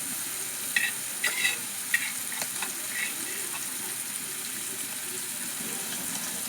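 Sardines fry in hot oil in a pan with pepper and curry leaves, giving a steady close sizzle with a few light clinks of stirring early on.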